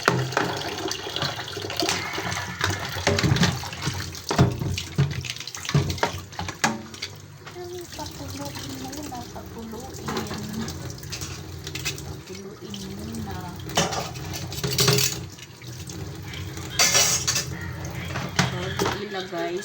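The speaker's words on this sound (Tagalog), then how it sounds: "dito maghugas ng pinggan kasi yan, hindi na tayo makatakot dahil hindi mababasag" Dishes are washed in a sink under a running faucet, with plates and cutlery clattering and scraping over the steady rush of water. Someone talks over the clatter at times.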